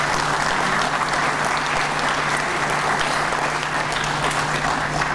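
Sustained audience applause fills a hall at a documentary film premiere in Travnik, a steady, dense wash of clapping that holds evenly throughout with no voices over it.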